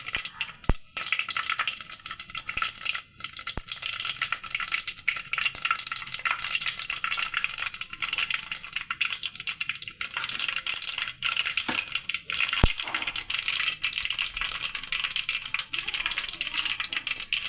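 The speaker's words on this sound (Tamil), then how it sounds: "கடுகு நல்லா பொரியுது." Mustard seeds splutter in hot oil in a pan. A steady crackling hiss is broken by scattered sharp pops and ticks over about seventeen seconds, close and moderately quiet with no talk.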